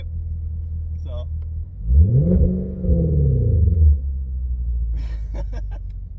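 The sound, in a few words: V8 Genesis sedan exhaust with X-pipe revving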